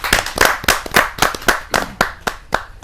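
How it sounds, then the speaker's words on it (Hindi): An audience at an Indian televised poetry gathering claps together in a steady, rhythmic burst, loud and close, welcoming a guest with no talking over it. "जोरदार ताली के साथ हम उनका स्वागत।"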